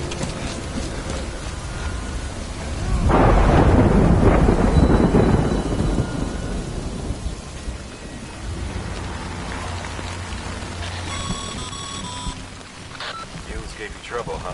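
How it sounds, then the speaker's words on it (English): Heavy rain and rolling thunder from the video game Death Stranding, with a loud swell of thunder early on over a steady, dense downpour that continues throughout. "Good thing it was raining."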